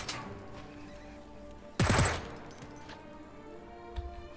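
Mercenary gunfire in Jagged Alliance 3: a single sharp, loud shot or short burst with a brief rumbling tail midway, followed by a fainter pop near the end over quiet game ambience.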